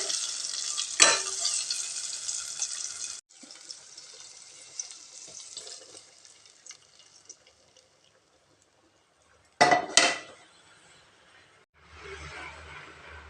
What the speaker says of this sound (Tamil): வதக்கி எடுத்து சாம்பாரில் எடுத்து ஊற்றிடலாங்க.